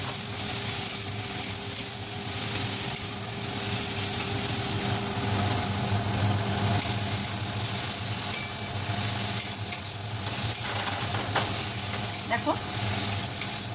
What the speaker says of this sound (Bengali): টমেটোগুলো সুন্দর করে ভাজা হয়ে গেছে এবং গলেও গেছে।